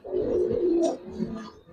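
Old-breed pigeons kept as a breeding pair coo in a loud, close, rolling run that stretches over about a second, followed by softer, lower coos.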